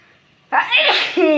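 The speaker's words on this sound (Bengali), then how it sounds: "লঙ্কা ভাজা হচ্ছে না তাই হাঁচি আসছে" A single loud, close sneeze set off by chili frying in a home kitchen, a sharp burst followed by a short voiced tail.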